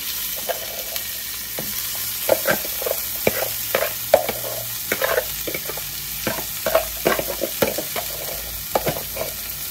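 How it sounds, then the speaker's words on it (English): Bok choy being sautéed in a pan for a seafood dish, with soft sizzling under repeated stirring scrapes and clanks that come in an irregular rhythm, close by and steady, with no talking. "I'm just going to saute this around until it gets done"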